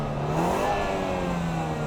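A used Samsung car's engine revs steadily at a sustained pitch, close and fairly loud, while being checked for smoke that could signal a worn motor.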